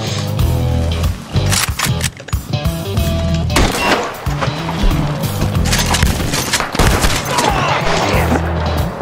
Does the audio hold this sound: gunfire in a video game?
yes